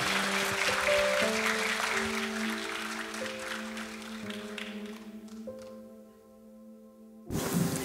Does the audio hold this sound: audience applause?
yes